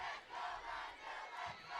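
Home football crowd at a Hawthorne vs Lawndale high school game shouting and roaring in waves to fire up their team, a dense, sustained mass of voices swelling and dipping.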